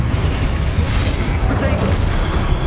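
Confringo and Incendio spell blasts in Hogwarts Legacy, a dense rumbling roar of booming explosions and fiery bursts, loud and continuous across the short span.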